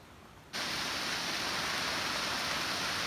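After a brief quiet moment, a dense, steady hiss of heavy rain starts suddenly on farmland and continues unbroken at a constant level.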